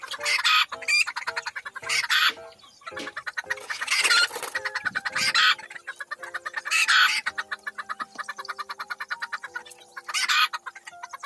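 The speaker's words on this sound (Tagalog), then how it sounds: "Yan naman yung mga native natin na balak nating i-cross sa ating rooster na RIR." Native hens and a Rhode Island Red rooster cluck in rapid, close bursts, repeated and overlapping calls from several birds in a farm flock.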